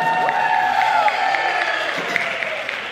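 An audience at a school video showcase cheers and applauds for graduating seniors, a steady wash of clapping and crowd noise throughout, with faint voices mixed in.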